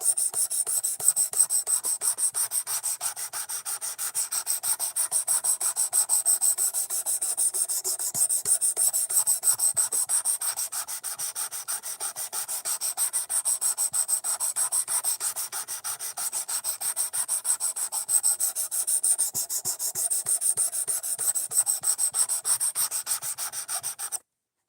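A knife blade is drawn steadily across a Work Sharp sharpener in fast, even rasping strokes that run without a break for the whole stretch, with no voices.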